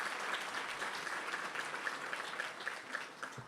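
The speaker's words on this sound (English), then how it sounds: "Let's give that team a big round of applause." An audience at a 2013 MRLC political gathering applauds for a few seconds. The clapping is fairly faint and distant but dense and continuous, with no talking over it.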